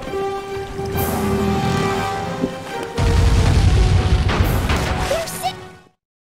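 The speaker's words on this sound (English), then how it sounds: "Long-range cannons." Heavy booming long-range cannon blasts and crashing impacts from a galleon duel in Sly 3, loud and dense, layered over a sustained tonal drone that cuts off abruptly.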